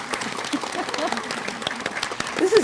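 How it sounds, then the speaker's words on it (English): A community college district town hall audience claps briefly, a short burst of scattered applause mixed with voices and a cheer or two. "let's give them another round of applause"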